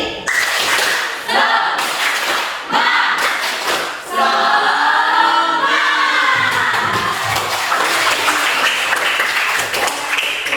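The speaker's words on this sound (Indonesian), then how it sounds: "Kita tepuk semangat lagi sekali" A school class does a rhythmic spirit clap, many hands beating patterned bursts together, with children's voices chanting and shouting along throughout, loud and close.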